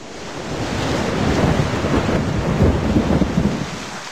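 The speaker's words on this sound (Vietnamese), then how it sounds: "Cơn bão đã đổ bộ, hãy chuẩn bị để chống bão." A storm roars with heavy, steady rumbling, crashing waves and wind in a Baby Panda kids' game, a loud continuous wash of noise with no talk.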